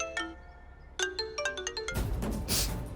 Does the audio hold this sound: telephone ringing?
yes